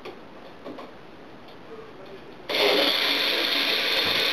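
A blender whirs up a smoothie, starting abruptly after a few quiet seconds and running loud and steady to the end, with faint mechanical ticking before it.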